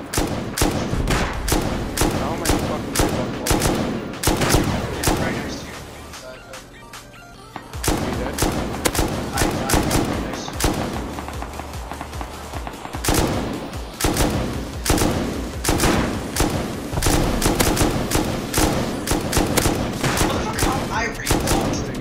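Rapid gunfire from the modded survival game Rust, with dense bursts of shots and automatic fire continuing almost throughout, a short lull in the middle, and voices talking underneath the shooting.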